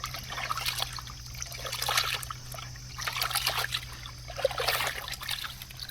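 Water trickles and splashes in uneven bursts while something is rinsed by hand outdoors, fairly close, over a steady low hum with no clear speech.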